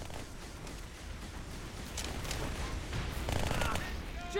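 Turret gunfire in the Halo 2 video game, a dense rattle of automatic shots that swells louder in the second half of the clip, with voices talking over it.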